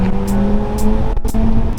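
A purple Lamborghini Aventador SV with a loud aftermarket exhaust drones at night in North Vancouver, a close, steady engine roar with a brief dip and recovery.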